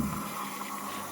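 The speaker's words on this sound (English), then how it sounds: "that sounds like water is feeding through" Water runs steadily into a washing machine in a Spanish house, a continuous hissing rush of flow that holds at an even level throughout.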